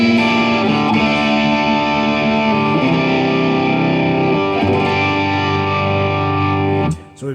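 Electric guitar chords played through heavy distortion, ringing loud and sustained with a few chord changes over several seconds before cutting off near the end, with no talking.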